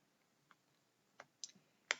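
Computer mouse clicks during a library citation search on a computer: a handful of faint, crisp clicks, irregularly spaced and close, in otherwise near silence with no talking.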